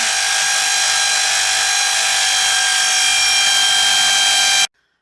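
A power drill runs continuously at high speed with a loud, steady whine, then cuts off abruptly into silence.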